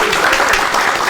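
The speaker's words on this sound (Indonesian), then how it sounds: "Beri tepuk tangan kepada Pak Rian dan Pak Yeski" A short burst of dense applause from a small audience welcoming two guest teachers, close and steady for about a second.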